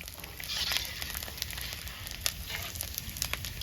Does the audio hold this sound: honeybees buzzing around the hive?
no